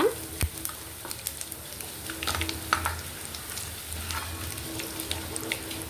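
Close, crackling sizzle of garlic frying in hot oil with asafoetida, the gas turned off, with light stirring and a few scattered pops and clicks.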